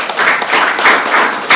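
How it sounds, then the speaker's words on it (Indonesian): Church congregation at a Sunday worship service clapping hands together, loud and close, with rhythmic bursts of claps running throughout the short stretch. "Tepuk tangan buat Tuhan Yesus."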